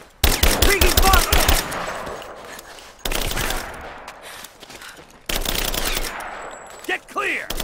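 Automatic gunfire from soldiers in the Rise of the Tomb Raider video game comes in three loud bursts of rapid shots, each fading into echoing decay before the next volley.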